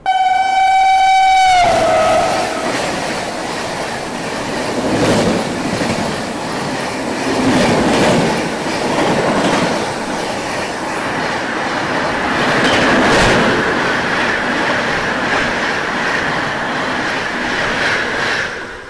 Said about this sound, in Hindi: ये जो ट्रेन हमें ओवरटेक कर गई ना, ये थी 121:04, यानी कि लखनऊ पुणे एक्सप्रेस।